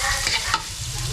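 Onion sautéing in a pan, a close sizzle with a brief stir partway through, short and steady, with no voices.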